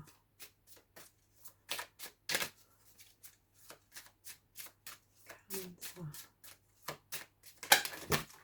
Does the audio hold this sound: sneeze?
no